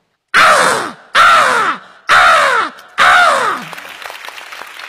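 A performer on a comedy stage vocally imitates a larger crow with four loud, drawn-out, falling caws at an even pace, close up, then light scattered clapping from the audience.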